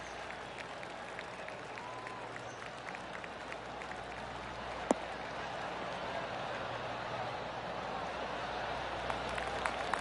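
Gallery crowd in PGA Tour 2K23 gives a steady, polite golf clap, a dense even patter of applause holding for the whole stretch, with one sharp click midway.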